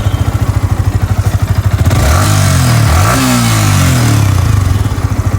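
A CBR or R15 V4 sports bike sits idling with a pulsing, chattering beat, then revs up hard into a sustained roar that rises, dips and climbs again before settling back toward idle, loud and close by.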